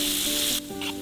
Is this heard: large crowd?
no